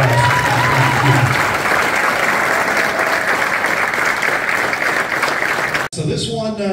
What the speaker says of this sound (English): So how about one more big round of applause for the class?